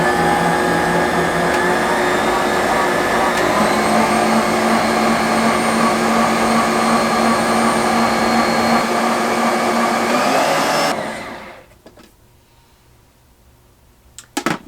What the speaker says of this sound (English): Now I'm just pulsing it a little bit to break up that cream cheese.